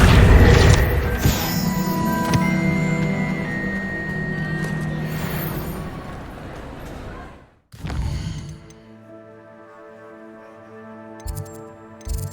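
A Confringo blast spell explodes in Hogwarts Legacy, a loud broad boom with crashing debris that rolls on for several seconds, then cuts to a quieter stretch with a second softer burst and ringing tonal game sounds.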